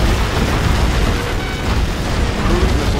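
Cruise missile warheads exploding in the video game C&C Generals make a continuous roaring, rumbling blast that stays loud and dense from start to finish, with no talk over it.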